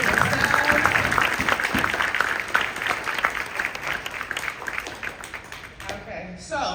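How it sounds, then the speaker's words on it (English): Keynote audience clapping for themselves at a NYKO 2023 event, sustained loud applause from a large crowd that thins out toward the end, with some voices mixed in. "Clap it up for yourselves."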